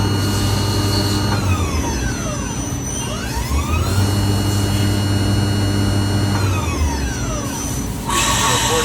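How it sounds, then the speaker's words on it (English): The main spindle of a Tsugami BS20BIII CNC Swiss lathe whines up and down in pitch as it revs forward and then in reverse, its tone sweeping repeatedly over a steady machine hum. "Going to run the main spindle, low RPM forward, low RPM reverse. Get a chance to see it rev up."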